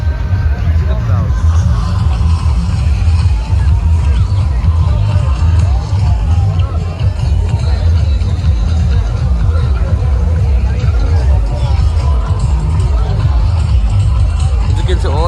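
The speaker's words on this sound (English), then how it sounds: "See the crowd." Dense crowd hubbub along a busy Goa beach lane near Calangute, a loud, continuous babble of many overlapping voices with occasional vehicle rumble mixed in, steady throughout without pauses.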